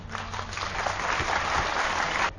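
Applause from a large audience at a health camp gathering in Guwahati honouring a doctor, a dense, even wash of clapping that swells slightly and then stops abruptly.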